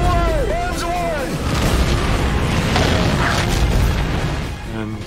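Bombs bursting in a wartime air raid from the Doolittle Raid, a dense continuous roar of booming explosions with whistling descending tones early on, loud and sustained throughout, with voices mixed in.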